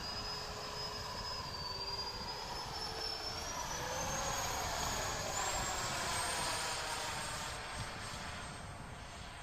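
An RC MiG-29 with twin 64mm ducted fans takes off on half flap. Its turbine-like whine rises steadily in pitch as it accelerates, loud and sustained, over a low rumble.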